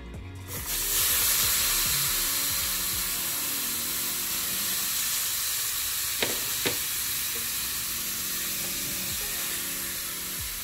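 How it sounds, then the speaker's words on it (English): Vegetables hit a hot pan with a loud burst of sizzling that settles into a steady frying hiss, broken by a couple of quick clinks. "I'm just going to dump these into the frying pan"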